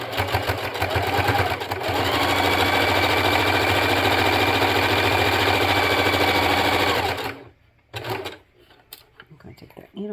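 A sewing machine runs in a fast, steady mechanical whir while stitching fabric for a cup cozy, loud and close for most of the stretch before stopping, followed by a few faint clicks and handling sounds.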